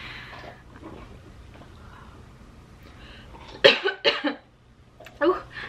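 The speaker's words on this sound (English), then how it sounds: "I shouldn't be coughing right now." A few harsh, close coughs burst out in a quick cluster, followed by one more, after a stretch of soft background sound.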